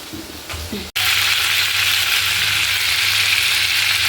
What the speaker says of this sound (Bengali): পটলটা ভাজা ভাজা হয়ে গেছে